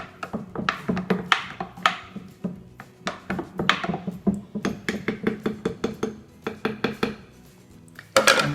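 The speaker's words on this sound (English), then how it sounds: "we'll just stir it all." A spoon stirs sparkling strawberry lemonade with ice in a pitcher, producing a quick run of close, sharp clinks and knocks that repeat irregularly, ending in a slightly louder cluster.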